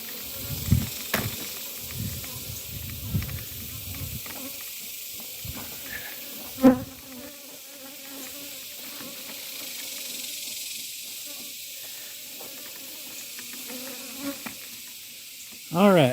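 Honey bees buzz around an open hive during an outdoor hive inspection, a steady insect hum with intermittent louder passes close by and a few brief knocks and thuds.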